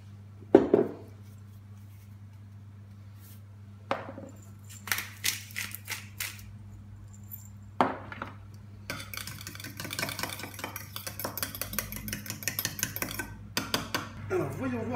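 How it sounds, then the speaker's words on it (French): Olive oil, salt and pepper being mixed in a bowl for a tomato millefeuille, with scattered clinks of utensil on dish followed by busier scraping and stirring, quiet against a steady low hum. "Je vais préparer un petit peu d'huile d'olive avec du sel et du poivre et je vais mélanger tout ça."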